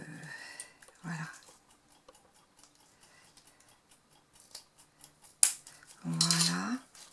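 Scissors cut a piece of craft material in half for a handmade album, with a few sharp snips and crisp paper rustles spaced out among quieter handling noises and brief faint voices.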